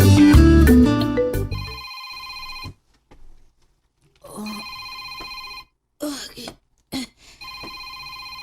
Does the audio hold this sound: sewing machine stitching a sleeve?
no